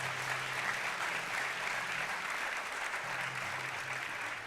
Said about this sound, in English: Can we give them a really big round of applause?